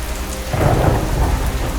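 A thunderstorm on a dark rainy night in a rural village, with steady heavy rain and a deep rumble of thunder swelling in the middle and rolling on; continuous and loud, with no voices.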